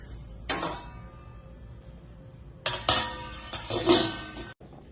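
Metal clanks and scrapes as a lid is handled and set onto a pot of boiling beef soup, a short clatter followed by a longer rattling settle, close by.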